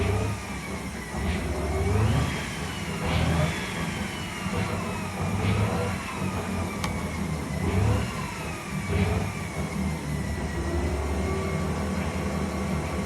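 All-wheel-drive Honda CRX engine revs repeatedly in rising and falling surges while its four wheels spin, a close, loud whine and roar sustained through the stretch without talk.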